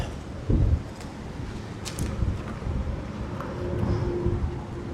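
Outdoor wind buffets the microphone while resin is mixed for a walking stick, a continuous low rumbling roar with gusts that swell and fade, plus faint handling knocks.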